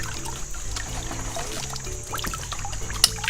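Fresh water trickles and pours steadily through a stream in the Amazon rainforest, a soft continuous wash with no voices over it.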